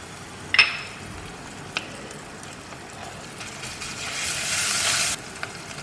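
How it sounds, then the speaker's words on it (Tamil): Cumin, cinnamon and cardamom fry in hot oil for butter chicken, a soft, steady sizzle with a light clink near the start and a louder crackling swell toward the end. "ஜீரகம், பட்டை, அதுக்கப்புறம் ஏலக்காய். ஸோ இது வந்து கொஞ்சம் பொரியட்டும்."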